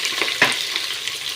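Onions frying in a pan for chicken biryani, a brief steady sizzle with a soft stirring scrape partway through, close and alone.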